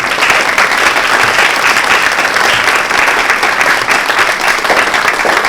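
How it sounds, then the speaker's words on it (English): Loud, sustained applause from a large crowd, dense and even throughout with no pauses. "A round of applause for her."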